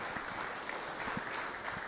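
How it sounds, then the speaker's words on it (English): A crowd at a county fair swine show claps in a faint, steady patter of applause heard from a distance, with a few louder claps standing out. "Let's give them all a big round of applause"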